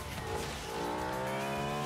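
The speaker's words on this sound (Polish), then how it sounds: "Ogólnie takie sportowe Audi absolutnie niesamowicie brzmi." A sporty Audi roars in the racing game Forza Horizon 3, a loud sustained engine note climbing steadily in pitch with a hint of tire squeal, filling the whole moment without talk.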